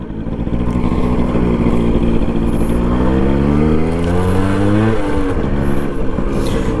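A Suzuki Max 100 motorcycle is ridden hard, its engine revving steadily upward in pitch through a gear, dropping at the shift, then pulling again, loud and close.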